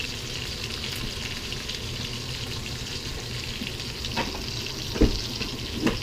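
Rib steak sears in a hot pan with a steady, crackling sizzle, close and loud, broken by a few sharp pops and clatters near the end.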